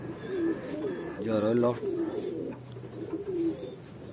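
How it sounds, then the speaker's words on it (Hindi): Pigeons at Royal Loft in Bhopal, soft repeated cooing close by, mixed with someone talking over them. "माशाल्लाह बहुत बेहतरीन कबूतर हैं जैद भाई के पास"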